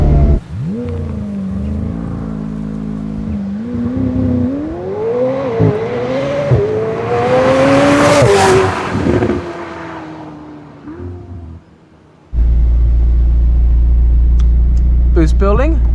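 A 2022 McLaren 765LT Spider's engine revs hard and climbs through rising gear pulls, dips between shifts and builds to a roaring peak before easing off. A loud low idle rumble follows, and a person talks over it.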